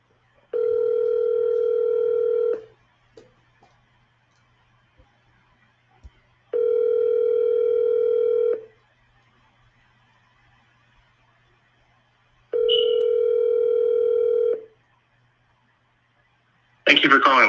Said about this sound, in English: Let's go ahead and call Lance.